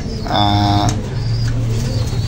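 Pigeons coo close by in a low, throaty burst, with a soft murmur of other birds and faint background noise.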